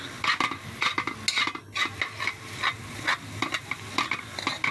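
Lubi-lubi leaves cooking in coconut milk that has released its oil, with sardines added. A spoon stirs and scrapes in a quick repeated rhythm over a soft, close sizzle.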